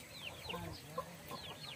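Hungry backyard chickens cluck in a rural village yard at feeding time, several birds calling in short, overlapping bursts at close range with no one talking.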